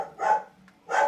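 A dog barks twice, close and fairly loud, with a brief pause between the two sharp barks.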